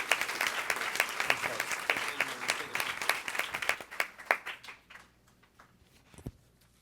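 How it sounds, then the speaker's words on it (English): A room at a school board meeting applauds a group of Eagle Scouts with steady, close clapping that thins into scattered claps and fades to near silence. Faint voices murmur underneath. "give you a big applause"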